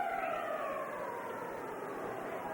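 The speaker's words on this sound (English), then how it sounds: "There's the siren to end the second period." The horn in a hockey arena sounds to end the second period of a 1981 playoff game between Quebec and Philadelphia: a long sustained wail, distant and faint, over crowd noise.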